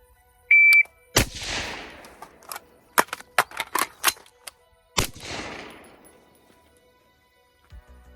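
Rifle and pistol shots during a timed combat reload shooting drill, opening with a shot timer beep, then a sharp report, a burst of several rapid cracks and a final loud shot, close and outdoors with echoing decay.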